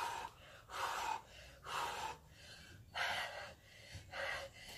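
Strong, rhythmic exhales during a cardio fat-burning workout, about five forceful breaths in a steady cadence, close and fairly quiet, with no talking over them.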